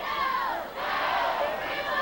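Crowd at a 1996 Chardon vs Solon high school football game, a steady roar of cheering and shouting voices from the packed stands on both sides, loud and continuous with a brief dip.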